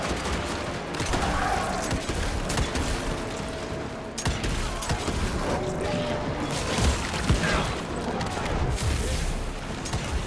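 Shotgun fire and combat in the game Evil West, loud near blasts in dense rapid bursts mixed with crashes and booms, continuous throughout.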